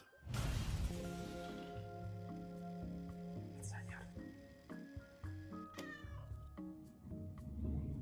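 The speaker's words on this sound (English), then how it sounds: "Cat. Meow meow." A cat in the Ookami Okami game demo meows several times, the first loud and close, with later calls scattered among plinking game music and short sound effects.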